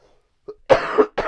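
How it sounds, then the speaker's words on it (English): A single person coughs once near the microphone, a short harsh burst with a throaty rasp following a brief quiet breath, then another cough begins as the clip ends. "I got a cough."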